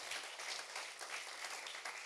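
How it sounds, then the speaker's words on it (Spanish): A church congregation applauding in praise during a Spanish-language sermon, a faint, distant, continuous patter of many hands clapping, soft and even throughout. "Denle un aplauso al Señor, iglesia."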